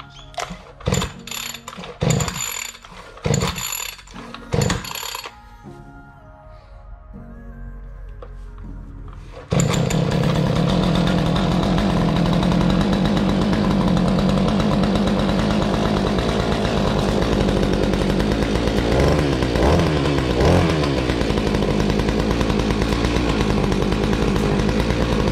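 A Giantz 80cc post hole digger's petrol engine gives several sharp pull-start tugs, then catches and runs as a loud, steady, close-up roar that holds without a break.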